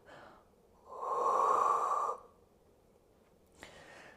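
A single audible breath during a core-strength pilates mat exercise, a soft airy exhale swelling for about a second then fading, followed by a brief faint intake, close and alone.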